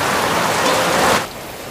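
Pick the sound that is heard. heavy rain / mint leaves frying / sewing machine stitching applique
heavy rain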